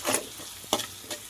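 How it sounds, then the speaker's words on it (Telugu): Spices tempering in hot oil in a pan sizzle and crackle, with a few stirring scrapes standing out over the steady fry, close and clear with no talking. "మా తాలింపు అయితే వేగింది"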